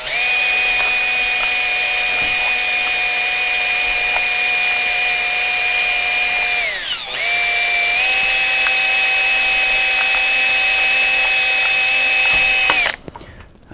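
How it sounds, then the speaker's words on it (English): A loud, steady whine of a power drill with a 1.5 mm bit drilling holes in a lid close by, dipping briefly in pitch midway before spinning back up and then cutting off. "just go around and drill holes"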